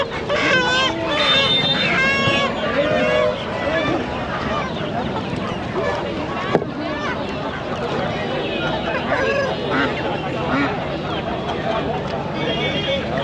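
Chickens and turkeys at a poultry market in Chandapura near Attibele, Bengaluru, crowing and clucking almost continuously amid a crowded din of vendors and buyers talking over them.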